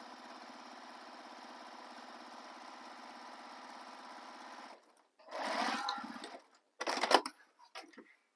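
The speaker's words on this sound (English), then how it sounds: "So I'm going to switch my stitch length and top stitch along the bottom of the pocket only." A sewing machine runs a continuous topstitch along the bottom of a handbag slip pocket, a steady fast whirring hum for several seconds, then stops, followed by brief handling rustles.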